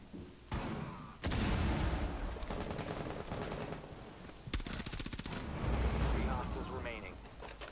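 Rapid automatic gunfire from Rainbow Six Siege in a hard Terrorist Hunt mission on the Oregon map, with dense bursts of shots and booms running through the whole stretch, loud and close, while a player talks over it.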